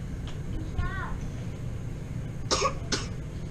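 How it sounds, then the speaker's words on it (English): A six-month-old baby gives two short, breathy coughs close by, preceded by a brief vocal sound, in an otherwise quiet room. "Yeah, he's coughing."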